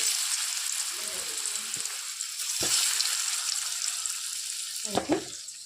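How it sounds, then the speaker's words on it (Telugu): Small pieces of taro root (cheema dumpa) frying in hot oil give a steady close sizzle, with a few brief clatters and knocks of a utensil against the pan. "ఇందులో ఆయిల్ పోసుకొని ఇప్పుడు వీటిని వేపుకోవాలి."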